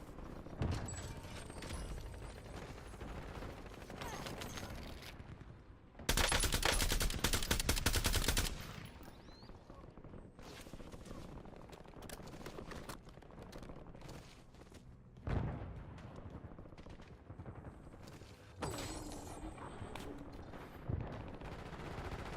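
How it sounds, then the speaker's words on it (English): Rapid automatic gunfire in a tactical shooter video game, with a loud sustained burst in the middle and scattered shorter volleys, thuds and mechanical clicks around it, all fairly close and with no talk. "Incoming shots!"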